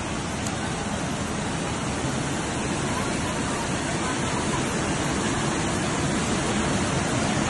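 Heavy rain pours in Junagadh with rushing, flowing water, forming a dense, unbroken roar of loud hiss that holds steady for the whole stretch.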